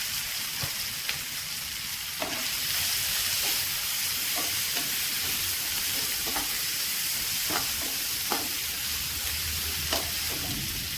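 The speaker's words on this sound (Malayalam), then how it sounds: "ഇനി നമുക്ക് അരിഞ്ഞ് വെച്ചേക്കുന്ന സവാളയും കൂടി ഇട്ട് കൊടുക്കാം ഇതിനകത്തോട്ട്" Sliced onions frying in a hot pan for a Kerala-style prawn roast, a steady close sizzle that rises as they go in, with scattered scrapes and stirring clicks.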